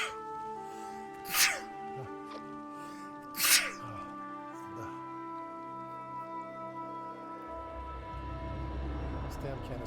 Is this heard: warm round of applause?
no